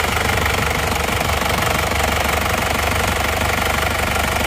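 An old engine idles and revs with a steady, harsh mechanical clatter and knocking that holds at constant loudness and stays close for the whole stretch, with no talking.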